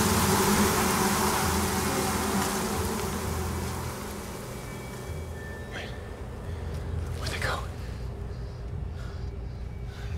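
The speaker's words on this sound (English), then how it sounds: "I've never seen so many damn bees in my life." A continuous buzzing of many bees, loud at first and easing slightly, with faint voices and rustling mixed in.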